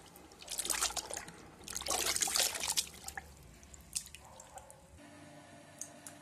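Rinse water is poured off soaked poha (flattened rice) in a home kitchen: a few seconds of splashing, trickling bursts close by, then quieter drips and dribbles with no talking.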